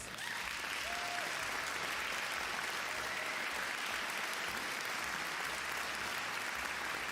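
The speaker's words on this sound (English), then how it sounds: "I'll give a round of applause" Steady, dense applause from a crowd, sustained and even throughout with no pauses or voices standing out.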